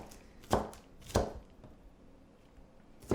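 A knife chops a large onion on a cutting board, giving three sharp, separate thuds spaced about half a second to two seconds apart, close and fairly loud against quiet kitchen background.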